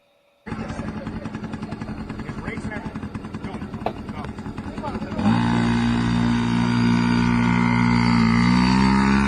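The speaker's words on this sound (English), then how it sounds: "Got little Junior his first motorcycle." A child's first motorcycle starts up with a buzzy engine drone, then the revving jumps suddenly louder and holds at a high, rising roar.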